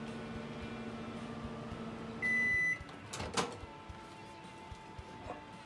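A faint microwave hum runs and then cuts off with a single long beep, followed by the click and clunk of its door opening.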